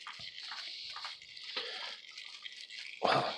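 Synthetic engine oil drains from a 2015 Nissan Quest with about 10,000 miles on the oil, a soft steady trickle and splatter running throughout, closing with a louder splashing burst.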